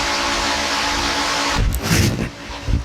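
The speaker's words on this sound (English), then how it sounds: "Sorry about the fan, I hope that's not too loud on camera." A steady electric fan roars as broadband noise in a workshop where a go-kart frame is being built, with a few louder rumbling bumps and clatters over it near the end and no one speaking.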